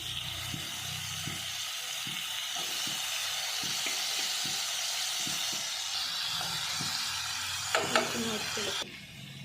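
Paneer cubes frying in butter masala in a pan, giving a continuous bright sizzle and hiss with regular soft scrapes of stirring underneath, close up, a few sharper clanks near the end.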